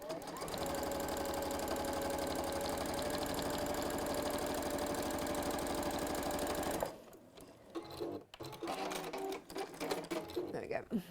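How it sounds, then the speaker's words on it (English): Sewing machine chain sewing fabric pieces, a loud, fast, steady mechanical whirring run for about seven seconds, then stops, followed by quieter handling clatter and thumps; a person speaks at the same time. "you can just chain sew them as you go"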